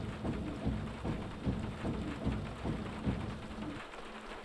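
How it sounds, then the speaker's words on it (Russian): Rain and thunder in the racing game Project Cars 2: a quiet, steady rain hiss with low rumbles recurring in a regular rhythm. "Звук дождя, звук грома."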